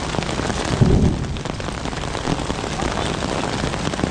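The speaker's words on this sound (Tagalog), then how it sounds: "Abot tayo ng ulan." Heavy rain pours steadily, a dense hiss of drops on surfaces, with a brief low rumble near the start.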